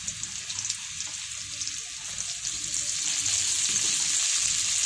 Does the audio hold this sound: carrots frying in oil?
yes